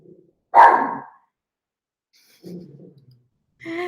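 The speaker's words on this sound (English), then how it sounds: "excuse my dog." A pet dog in a house being shown for sale in Guam gives one loud, close bark, followed later by softer, shorter yelps and whines in an otherwise quiet room.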